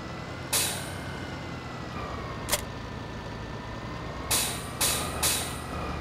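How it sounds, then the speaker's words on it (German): A few sharp bursts of hissing compressed air brake release, one short and several in quick succession near the end, over a steady low engine rumble of a Hürlimann XL130 tractor in Landwirtschafts-Simulator 2013. "Das meine ich dann mit der Druckluft, das gibt dann so einen komischen Ton"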